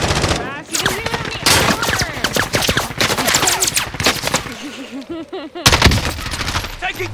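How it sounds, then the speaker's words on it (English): Rapid video game gunfire rattles in dense, loud bursts throughout a tense firefight, with players shouting over the shots. "Under fire!"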